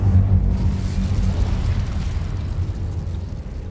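Incendio fire spell cast in Hogwarts Legacy, a loud rumbling whoosh of flame that bursts at the start and then roils on and slowly fades.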